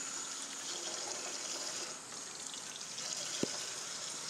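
Warm tap water runs steadily into a container for thawing raw meat, a soft, continuous gushing stream heard close at low volume with a brief clink near the end.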